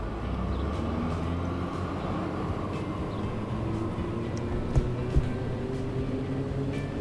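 Electric train with a DC traction motor in the Transport Fever 2 game, giving a steady rumbling run with faint tonal whine lines slowly rising in pitch, continuous and moderately loud with no talk.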